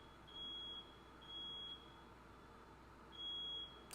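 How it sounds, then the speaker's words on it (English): A smoke alarm sounds indoors, giving three faint, high, evenly pitched electronic beeps about a second apart, each roughly half a second long, over a quiet room hum with no talk. "Why is my fire alarm going off?"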